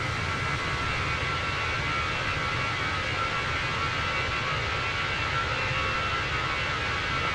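Airbus A321 airliner taking off in Microsoft Flight Simulator, a steady, loud, broadband engine roar holding at constant level throughout with no talk.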